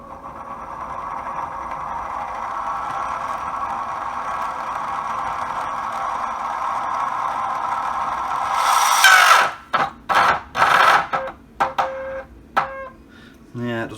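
Milwaukee M18 wet/dry vacuum motor running on a bench supply with a scratchy, unhealthy whine, steady for several seconds before it cuts out and is followed by clatter and someone talking.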